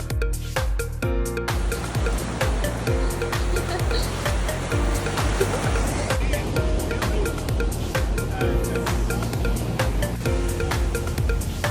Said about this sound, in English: the tide is like so high. Like the waves are coming in so far.